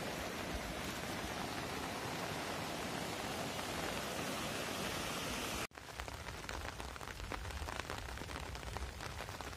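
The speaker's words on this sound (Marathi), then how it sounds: "आश्रम पूर्ण पाऊस पडत आहे तिकडे पण भरपूर" Heavy monsoon rain pours down steadily outdoors near rural fields, a dense continuous hiss that briefly cuts out and returns with a slightly lighter, patterned patter of drops.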